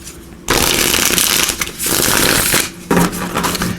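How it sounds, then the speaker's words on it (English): Tarot cards being shuffled by hand, a loud, close riffling and rustling in several bursts with brief pauses between them, no talking. "Just give these a good shuffle,"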